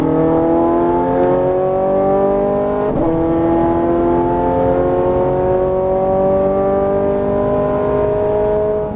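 A Ferrari 430 Scuderia accelerates hard on the Las Vegas race track. The engine note is loud and close, and its pitch climbs steadily, drops briefly at a gear change, then rises again. No voices are heard.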